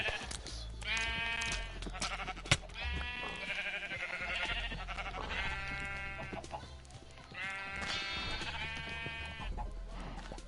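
Video game sheep bleating in a snowy Christmas world, several drawn-out wavering bleats in bursts across the clip, close and fairly loud, with faint background sounds between calls.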